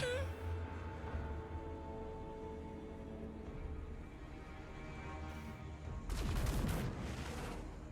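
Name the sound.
crane gunners firing in the video game Total War Warhammer 3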